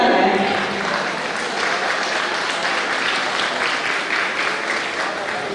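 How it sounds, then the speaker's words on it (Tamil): A crowd claps steadily and fairly loudly at an event held by a wedding information centre, with the applause continuing throughout and faint voices underneath. "கொஞ்சம் கைத்தட்டலாங்க"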